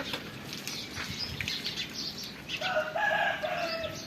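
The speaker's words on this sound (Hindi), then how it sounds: "पक्षियों की, मुर्गियों की बहुत ही प्यारी आवाज़ें होती हैं।" Village birds and chickens at morning, with fowl clucking, a rooster crowing and wings flapping close by, busy and overlapping, louder toward the end.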